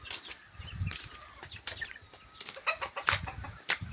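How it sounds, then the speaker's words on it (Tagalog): Chickens at a rural house in Pakil, Laguna cluck and squawk in short bursts near and far, with wing flaps and sharp calls scattered over a rainy outdoor background. "Daming manok."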